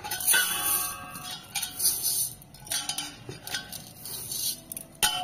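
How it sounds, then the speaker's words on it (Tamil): Parboiled ration rice scooped and measured with a measuring cup, repeated light clinks, ticks and rattling grain sounds at an uneven rhythm, close and fairly quiet, with no speech. "இந்த உலக்குல நான் மூணு உலக்கை அளந்து எடுத்துக்கிற போறேன்."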